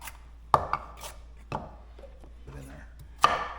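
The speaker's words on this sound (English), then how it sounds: "Set them aside, clean off the board, and chop them up." Knife chopping peeled carrots on a cutting board for turkey soup: a few sharp, separate chops spaced unevenly, close and clear over a quiet kitchen background.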